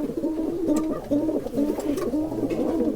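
A domestic pigeon in a home loft coos in repeated low, throaty rolling calls, close and steady, with faint rustling around it and no talk.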